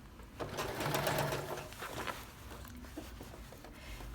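Sewing machine stitching an under collar onto a denim jacket with thick thread, a steady mechanical whirr in a short burst that fades to quieter running hum, heard close and alone.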